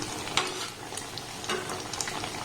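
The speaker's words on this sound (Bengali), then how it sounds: "এইভাবে এগুলোকে আমি একটু লাল লাল করে ভেজে নেব" Semolina sweets deep-fry in hot oil with a steady, soft crackling sizzle and a few brief louder spatters, close up with no voices.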